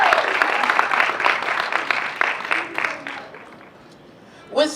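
Crowd applause for a performer at a Juneteenth celebration, dense and steady clapping mixed with crowd noise that gradually thins and fades, then a brief burst of sound at the very end.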